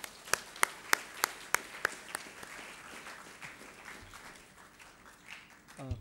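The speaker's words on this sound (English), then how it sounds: "Can we welcome her with a big round of applause?" Audience at a school event welcoming a speaker, starting with a few loud, distinct claps that fade into softer, scattered applause from the room, then quiet with faint handling noise.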